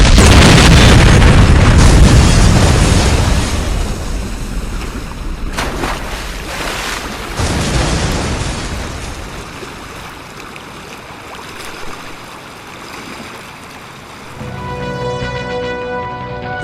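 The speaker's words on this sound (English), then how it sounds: "A deadly explosion has rocked the waterfront." A loud boom from an explosion at a waterfront in the video game Saints Row opens the clip, then fades into a long rumbling, watery wash with scattered crackles. A softer burst follows near the end.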